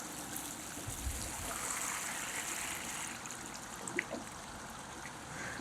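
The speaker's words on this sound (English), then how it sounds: "So I've got my watering can here." Water pours steadily from a watering can onto a potted ginger plant, a soft continuous trickling splash close by and fairly quiet.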